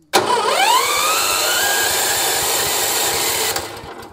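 A Maktani rice milling machine engine fires up after a short starter crank and settles into a loud, steady running drone close by that holds for several seconds before easing slightly at the end, with no talking.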